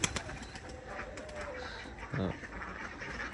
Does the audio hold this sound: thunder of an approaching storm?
no